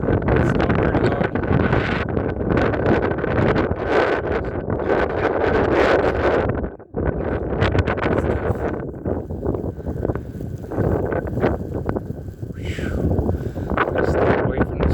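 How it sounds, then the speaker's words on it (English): Strong wind buffets the microphone during a run through a snowy blizzard, a loud, continuous roaring rush with gusty surges and one brief drop near the middle. "Stay away from this wind. It's really biting."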